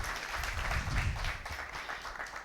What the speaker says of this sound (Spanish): un fuerte aplauso para los disertantes nuevamente